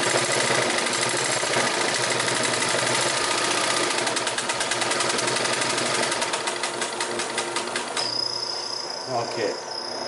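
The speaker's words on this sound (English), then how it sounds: "Let's fire up the old beast. Alright, and this is a walking foot machine." A Singer 16-188 industrial walking foot sewing machine runs fast and loud with a rapid mechanical chatter over a motor hum, then slows and winds down near the end.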